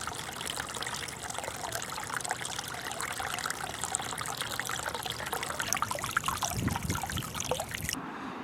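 Water trickles steadily at a small figure beside an adobe mission arch with rubble on its outside, a continuous close splashing that runs on alone and stops abruptly near the end.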